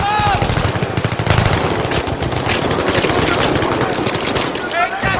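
Dense automatic gunfire from the Battlefield 3 Fault Line multiplayer map, loud and continuous with overlapping bursts and explosion-like impacts, while a voice talks over the battle.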